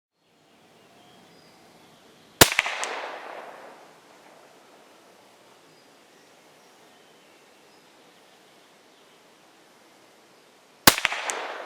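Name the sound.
Huben K1 air rifle shots being fired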